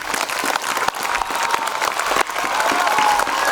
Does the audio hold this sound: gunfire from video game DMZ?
no